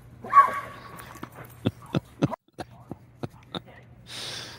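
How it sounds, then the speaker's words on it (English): A playful dog lets out a series of short, sharp barks and snorts near the mic, some breathy whimpering sounds between them and a low hum underneath, ending in a rough exhale. "My wacky dog."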